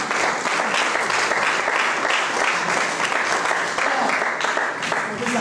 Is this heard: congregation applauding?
yes